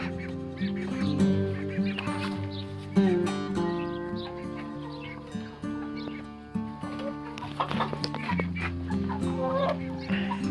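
Ross 308 broiler chickens clucking and calling steadily over a busy mix of birds, with some ducklike quacks among them, fairly close and continuous throughout.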